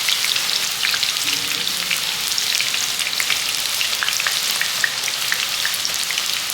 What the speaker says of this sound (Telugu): ఇప్పుడైతే నేను కొంచెం అరటికాయ చిప్స్ అయితే వేస్తాను. ఒక్కొక్కటి వేస్తున్నాను.